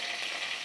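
A tomato mixture fries in a pan with a steady, soft, even sizzle that holds without a break through the short moment.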